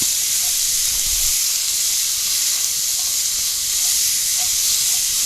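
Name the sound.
onions and carrots softening in a Dutch oven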